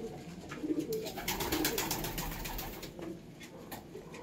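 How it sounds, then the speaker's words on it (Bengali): Low, throaty cooing comes from a pair of home-bred Kalanka pigeons, with two clear rolling coos early on and then quieter murmuring against a constant faint hiss. "এই একজোড়া কালাঙ্কা পায়রা,"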